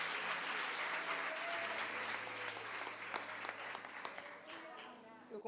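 Congregation at a church service applauding, a dense steady wash of many hands clapping that holds for several seconds and thins slightly toward the end, with voices faintly under it.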